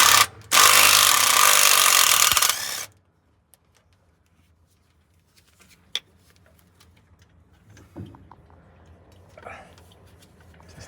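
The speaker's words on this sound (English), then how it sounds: "Still just getting the bolt out?" A power tool buzzes loudly for about two seconds while removing a turbo bolt. Quieter metallic clicks, ratcheting and handling follow.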